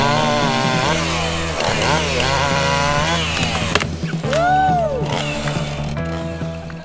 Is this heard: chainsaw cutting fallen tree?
yes